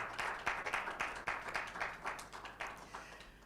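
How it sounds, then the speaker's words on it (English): A conference audience applauds a panel at a lawyers' energy awards event, steady dense clapping at moderate distance that holds for a few seconds with slight swells. "A round of applause for them."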